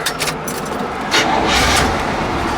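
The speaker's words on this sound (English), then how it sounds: "This car starts up, runs so nice." A 1969 Buick GS engine cranks briefly and catches, settling into a steady running rumble, fairly loud and close, with a faint jingle early on.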